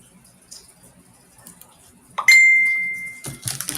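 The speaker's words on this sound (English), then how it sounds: "I have a ding on my phone." A single bright phone notification ding rings out after some quiet handling noises, sustaining and slowly fading, with faint clatter following.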